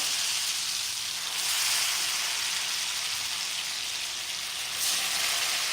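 Loud, steady sizzling of ravioli frying in butter, close up, with a brief surge partway through and no talking.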